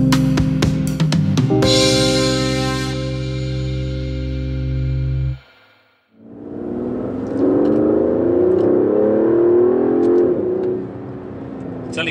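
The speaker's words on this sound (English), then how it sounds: "it opens up the valves in the exhaust and you just get the most intoxicating noise" Aston Martin DB11 in Sport Plus mode with its exhaust valves open: a loud, steady engine drone, a sudden brief cutoff, then a rising rev as the car accelerates hard, close and harsh with a crackling edge.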